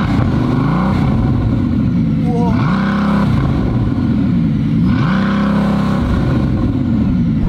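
A Bugatti engine with a new aftermarket exhaust revs hard and loud up close, several surging rises and drops in pitch over a constant heavy roar, with no talking.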